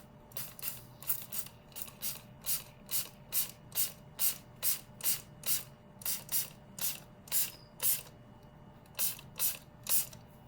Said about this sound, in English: So now we can just take it and spray it all over our cardstock.